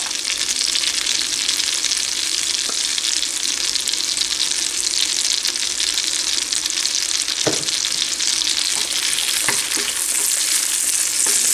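Dried cranberries sizzle in a pan of melted butter, a loud, close, continuous frying hiss with a few faint stirring knocks and no voices.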